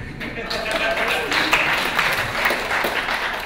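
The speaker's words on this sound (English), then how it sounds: "And that deserves a big cheer." Audience applause and cheering at a public health forum, a broad wash of clapping that holds steady for a few seconds with no voice over it.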